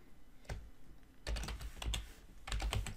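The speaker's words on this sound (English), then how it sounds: "I'm going to just type in kitchen" Typing on a computer keyboard, a quick run of close, crisp key clicks after a single early tap, fairly quiet with no talking.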